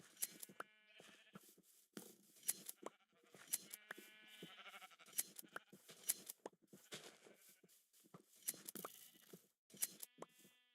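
Sheep in Minecraft give repeated short, close bleats in an irregular rhythm with brief gaps between calls.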